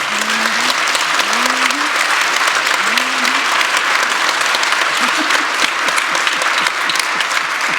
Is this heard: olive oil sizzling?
no